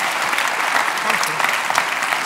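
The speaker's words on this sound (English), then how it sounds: "Let's just make that round of applause a bit of a happy birthday round of applause for next week." An audience at a National Theatre conversation event gives a round of applause, a loud, dense clatter of many hands that stays steady throughout, with a voice faintly mixed in.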